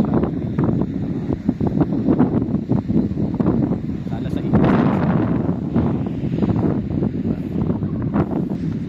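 Strong wind at a beach in Western Australia buffets the microphone in continuous rumbling gusts, with people talking underneath the roar.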